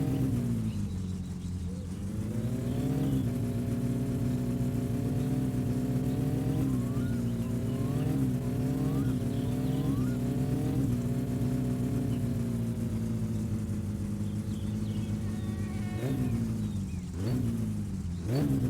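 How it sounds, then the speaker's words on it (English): A car engine fitted with a light flywheel in the driving game My Summer Car, idling and then revving up and down repeatedly with quick, loud rises and drops. "See how quick it is to rev now with a light flywheel."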